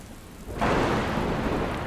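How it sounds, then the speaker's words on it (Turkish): Heavy rain in Şarköy, Turkey, bursting in abruptly from a quiet background into a dense, loud, steady hiss of downpour on surfaces. "Hava bir anda bozdu, yağmura döndü."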